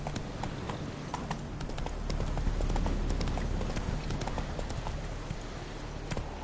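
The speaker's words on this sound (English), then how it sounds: "Whoa there, Roach." Horse hooves trotting in The Witcher 3 video game, a steady clip-clop rhythm running throughout over a low continuous rumble of movement and ambience.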